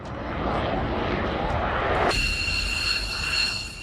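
Chinese fighter jets, J-10 and J-16 types, roar steadily overhead in a loud, sustained engine rumble. Partway through the sound shifts abruptly and picks up a high, thin tonal whine.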